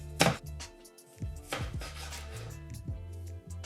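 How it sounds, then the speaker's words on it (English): A knife chops thin apple slices on a cutting board in a kitchen, with several irregular close taps and scraping strokes spread across the stretch, and no talking. "So I'm gonna let you do some chopping there."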